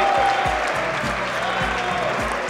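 A squash crowd applauds a spectacular professional men's rally with loud, dense, sustained clapping that fills the whole moment without pause.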